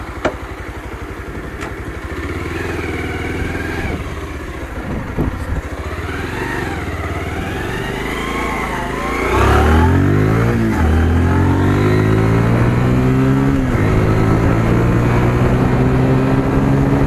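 Bajaj Pulsar 125 motorcycle engine idling, then revving up through the gears with rising and falling whines and a loud, close, buzzing exhaust note.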